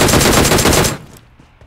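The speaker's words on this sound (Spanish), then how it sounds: "Pero nos están disparando." Automatic gunfire in the mobile battle-royale game PUBG Mobile, a loud rapid burst of shots lasting about a second before cutting off into quiet.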